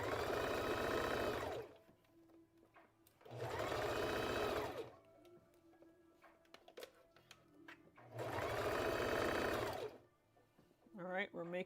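A sewing machine stitches a knit bodycon dress, three separate loud bursts of fast, even stitching, each a couple of seconds long, with quiet gaps of handling in between.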